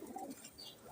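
Faint, brief soft cooing from Satchila-line pigeons kept in a breeder's loft, a quiet murmur with no voices.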